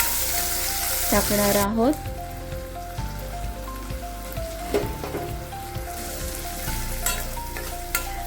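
Garlic, tomato and green chilli sauté in a pan for a school tiffin bhindi dish, giving a steady sizzle and frying crackle with a loud burst near the start and occasional stirring knocks. A brief voice speaks over it.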